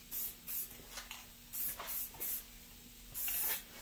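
Short bursts of paint from a spray can onto wheels: about six separate hissing sprays of uneven length with quiet gaps between them, close by and fairly soft.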